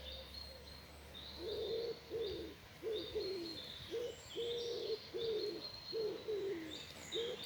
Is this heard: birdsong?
yes